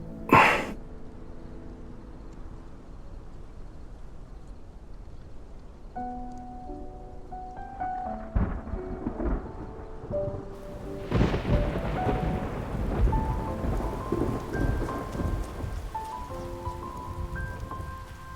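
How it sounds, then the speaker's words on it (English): Rain pours steadily in a thunderstorm, a low rumble of thunder rolling under it, while tonal chimes and soft music play over the downpour as it grows heavier. "It's raining!"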